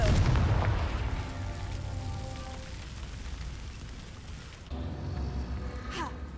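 A Confringo explosion spell goes off in Hogwarts Legacy, a low rumbling boom with a rain-like crackling wash that fades. A second sharp burst with a rising whoosh follows, all over steady game ambience.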